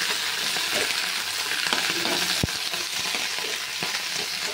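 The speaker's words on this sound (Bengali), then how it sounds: "হালকা একটু ভেজে নেবো, বেশি ভাজবো না" New flat beans frying lightly in a pan, a steady close sizzle with occasional stirring scrapes and a sharp knock from the utensil partway through, no talking.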